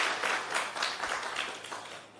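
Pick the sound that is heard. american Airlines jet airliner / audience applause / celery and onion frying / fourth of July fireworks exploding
audience applause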